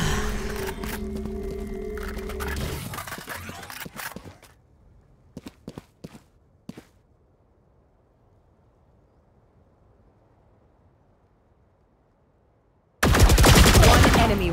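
Sheriff pistol shots in the video game Valorant, several sharp separate cracks in quick succession after a stretch of game noise, then near silence before loud action sounds return.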